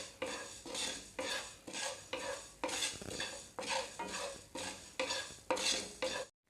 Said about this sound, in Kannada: ಜೀರಿಗೆಯಲ್ಲಿರೋ ಹಸಿ ವಾಸನೆ ಇರುತ್ತಲ್ಲ ಅದು ಹೋಗೋ ತನಕ ಫ್ರೈ ಮಾಡ್ಕೊಳ್ಳೋಣ